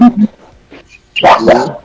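A dog gives a few short, loud barks and yips close by, after a brief muffled sound at the start, with quiet gaps between the bursts.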